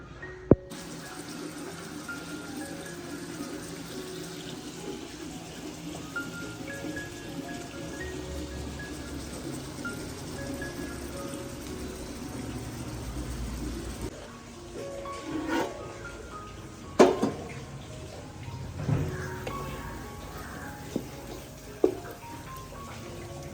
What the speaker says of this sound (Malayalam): മസാലയൊക്കെ പിടിച്ചതിന് ശേഷം ഇതാ നല്ല വെളിച്ചെണ്ണ ഒഴിച്ച് കൊടുത്തിട്ട് ഇതാ ചെമ്മീനൊക്കെ ഒന്ന് പൊരിച്ചെടുക്കുന്നുണ്ട്.